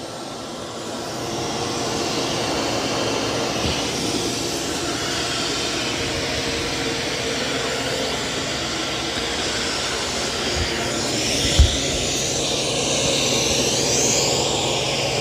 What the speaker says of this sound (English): I've got the vacuum on, I think medium or high, so it's a little loud.